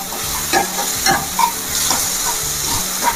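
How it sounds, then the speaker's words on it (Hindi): Potatoes and onion stirred in a frying pan for a drumstick-leaf and moong dal dish, with a steady sizzle and repeated scraping strokes every half second or so, close and alone. "आलू प्याज भल मिसीगला"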